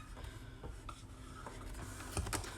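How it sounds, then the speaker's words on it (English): Children at home tap at computer keyboards, soft scattered keystrokes in short bursts with a few sharper clicks near the end, quiet and close with no talking. "See Sadie and Caleb and Ulysses typing their words in."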